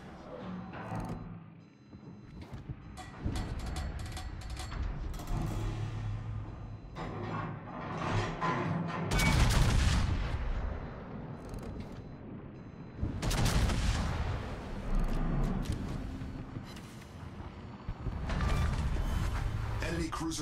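Tier 10 USS Montana battleship main guns firing in World of Warships, heavy booming salvos and rumbling blasts arriving in bursts amid in-game effects, with a voice speaking at points.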